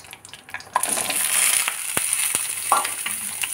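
Chopped potatoes and green chilli frying in a pan with half-fried curry leaves, a loud steady sizzle with a few sharp clinks of a spoon against the pan, no talk.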